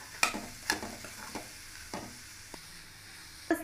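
Mashed potato masala with carrots being stirred in a frying pan, a handful of sharp scraping strokes and soft sizzle, close and fairly quiet, irregularly spaced over a few seconds.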